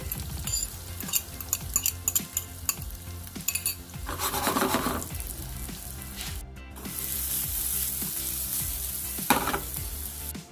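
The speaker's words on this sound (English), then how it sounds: "In my pan, I have butter and olive oil. To the pan, I'm gonna add chopped onion," Chopped onion sizzles steadily in butter and olive oil in a pan, with repeated scraping and stirring strokes from a utensil, close and fairly loud, and no voices.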